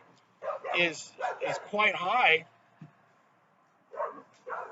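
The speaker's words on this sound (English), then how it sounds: "Pardon my little dog there." A small dog yaps in several quick bursts, close to the microphone, likely reacting to a squirrel outside, with a person talking in between the barks.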